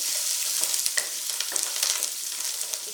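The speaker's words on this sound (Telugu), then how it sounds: "ఇక్కడ పోపు బాగా వేగిందండి" Tempering spices and curry leaves crackle and sizzle in hot oil for wild gooseberry tamarind-style rice, with quick pops and a few spoon scrapes against the pan, close and steady.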